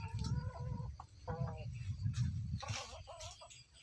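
Chickens cluck in short repeated bursts close by at a rural yard, with a person's voice talking intermittently underneath.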